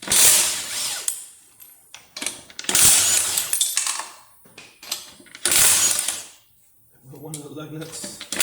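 Tools remove lug nuts from a wheel of a 1973 Mercury Cougar XR7 during brake work, several loud bursts of whirring and ratcheting separated by short pauses, with metallic clinks near the end.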